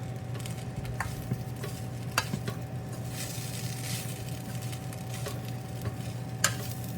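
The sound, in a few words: stirring peanut masala into rice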